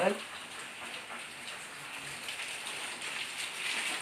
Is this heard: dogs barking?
no